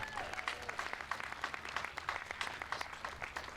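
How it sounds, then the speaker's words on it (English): Applause from a crowd at an NAACP counter rally, dense and fairly faint, a short spell of many hands clapping at a distance with a light murmur underneath. "Can you give them a round of applause?"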